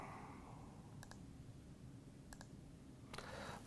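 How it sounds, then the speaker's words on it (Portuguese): Left-button clicks of a computer mouse while editing a poster panel, three pairs of crisp double clicks spaced about a second apart, quiet and close, with no talking. "Clica em cima com o botão esquerdo"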